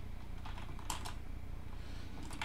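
Someone types quickly on a computer keyboard. The key clicks are faint and dense, with a few louder taps over a steady background hum, and no one talks.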